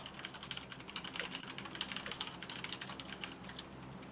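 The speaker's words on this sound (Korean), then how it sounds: "타자 소리가 너무 커요" Rapid computer keyboard typing during an online PUBG match, a dense steady clatter of keystrokes continuing throughout at moderate level with no talk.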